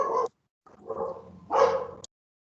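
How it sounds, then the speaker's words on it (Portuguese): A dog barks several times in short, loud bursts with whimpery yips between, close by and with no one speaking. "Isso aí foi um latido?"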